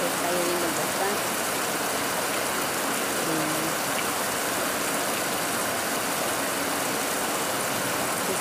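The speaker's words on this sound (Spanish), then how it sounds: "Estamos viendo que está lloviendo bastante." Heavy rain pours steadily outside a small shop, a dense, constant loud hiss with no breaks or talking.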